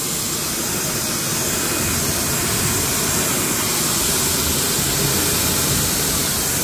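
An EGO pressure washer sprays on its turbo setting through a brass foam cannon, giving a loud, continuous broadband hiss and roar that holds steady throughout with no voices.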